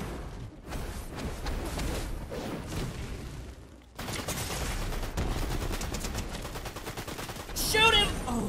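Bursts of automatic gunfire in a Fortnite match, moderately loud and repeated with short pauses, mixed with game effects and an excited player talking over it.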